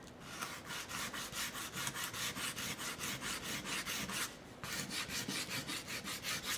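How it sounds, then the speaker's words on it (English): Folded sandpaper rasps steadily across thick cured paint on a rustic painted surface, a fast, even back-and-forth scrubbing that repeats close to the mic, pausing briefly once before resuming. "I need to be able to dig through it. So I'm gonna fold my sandpaper"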